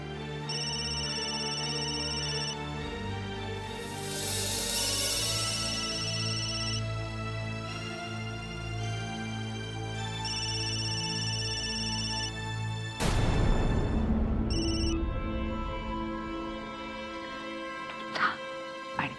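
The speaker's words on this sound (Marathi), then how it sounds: "तिचा फोन वाजला म्हणून ती आता खोलीकडे गेली आहे फोन आणायला." A telephone rings steadily for about thirteen seconds in a tonal repeating pattern, then the ringing stops and a burst of noise and clatter follows.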